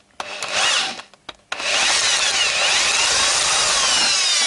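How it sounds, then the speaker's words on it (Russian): Power drill boring a hole in a VAZ crankshaft gear of soft metal with a larger bit: two short bursts, then a sustained loud grinding whir to the end, no talk. "Теперь моя задача просверлить более крупным сверлом."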